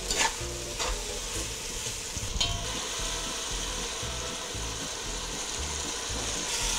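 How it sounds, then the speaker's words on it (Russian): A seasoned meat mixture fries in a pan with a soft, steady sizzle while a utensil scrapes and stirs it in a few distinct strokes, close by and fairly quiet, with no speech. "Опять перемешаем."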